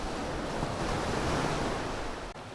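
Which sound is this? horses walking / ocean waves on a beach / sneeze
ocean waves on a beach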